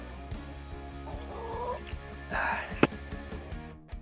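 Chicks with full feathers cluck and peep inside a coop, soft intermittent calls over a low steady hum, with a sharp knock near the end and a voice speaking nearby.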